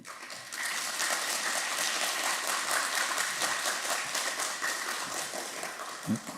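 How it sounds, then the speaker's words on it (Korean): A church audience breaks into sustained applause, steady and full for several seconds indoors, easing slightly toward the end. "박수로 환영해 주시기 바랍니다"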